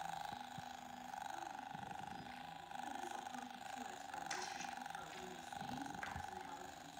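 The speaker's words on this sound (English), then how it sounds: "That's your purring toy." A steady, low mechanical purr hums continuously with a faint rhythmic buzz, quiet and close, like a toy cat purring.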